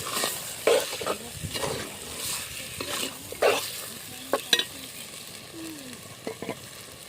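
Spoon scraping and stirring through a thick goat mutton curry in a clay pot on an outdoor wood-fired stove, with irregular clinks and scrapes against the pot, close up, no talking.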